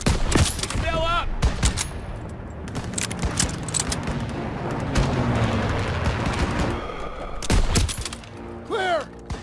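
Gunfire in the Call of Duty WWII game, Stronghold mission: a dense, continuous fusillade of rifle and machine-gun shots with thuds and booms throughout, under shouted battlefield voices.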